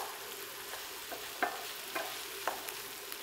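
Chicken pieces frying in a pan for keto butter chicken, a steady soft sizzle with a few sharp stirring clicks and scrapes at intervals.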